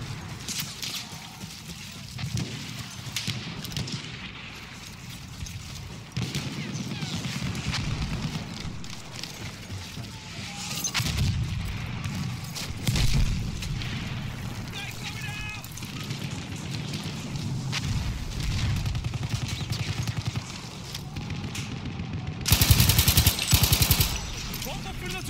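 Hellriegel 1915 submachine gun firing in Battlefield 1 multiplayer on PC, a dense continuous chatter of gunfire mixed with explosions and battlefield noise, with a louder burst near the end.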